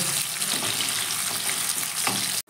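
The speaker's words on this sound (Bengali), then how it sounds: "এবার একটু কাজুর সঙ্গে কিশমিশটা একটু ভেজে নেব, তারপরেই তুলে নেব।" Cashews and raisins sizzle in oil in a wok, a dense, continuous frying crackle that stays loud and close before cutting off abruptly at the end.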